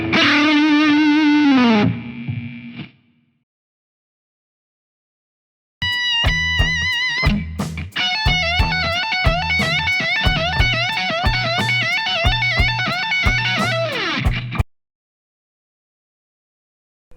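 Slow electric guitar lick with a whammy bar, distorted tone with sustained notes dipping and bending in pitch, then a run of picked notes, loud and up close, with short silent gaps between phrases.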